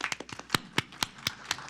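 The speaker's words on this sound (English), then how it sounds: "we can clap for her" Sparse hand claps from a city council meeting audience, a string of sharp separate claps at an uneven rhythm, fairly close and moderately quiet, with no talking over them.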